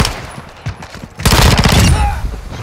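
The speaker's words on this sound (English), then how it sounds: "Shotgun with a scope on it, bro." A scoped shotgun firing in the Modern Warfare 2 video game, a few sharp shots early followed by a loud dense burst of gunfire and rumble in the second half, with faint voices underneath.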